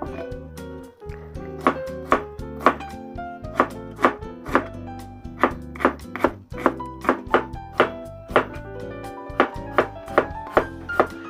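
A knife slices shallots, garlic and chilies in a steady run of close, crisp chopping taps, roughly two per second, with no talking.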